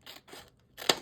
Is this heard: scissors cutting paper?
yes